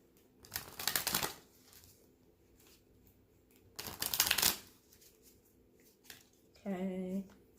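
Tarot oracle cards are shuffled by hand in two clear bursts of crisp riffling, each lasting under a second, with quiet gaps between them and a short tonal sound at the end.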